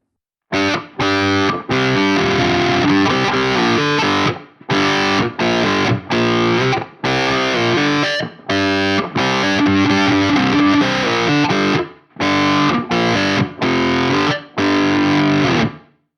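An electric guitar played through a Soldano SLO-100 X amp plugin gives loud, heavily distorted high-gain chords and riffs in choppy bursts separated by brief silences, alone with no voice.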